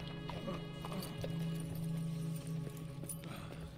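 Horses trot with rhythmic hoof clip-clops in a video game, a group riding together, with a whinny heard and faint voices in the background.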